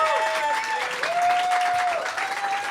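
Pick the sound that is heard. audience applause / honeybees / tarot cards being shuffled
audience applause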